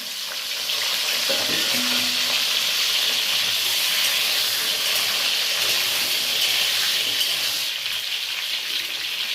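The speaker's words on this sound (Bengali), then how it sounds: "তেলটা গরম হয়ে গেছে, এবার আমি পটলটাকে ঢেলে দেব।" Pointed gourd (potol) slices fry in hot oil in a Bengali kitchen, giving a loud, steady, hissing sizzle that runs unbroken throughout, with no voices.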